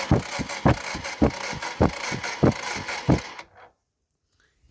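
A TVS StarCity 110 motorcycle with a starting problem and spark plug current leak idles with a steady, close thudding beat for about three seconds, then cuts out into near silence.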